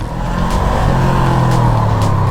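An FKM Glider 500S big bike engine revs loudly and close up in first gear, a continuous rising roar with a rough throaty drone.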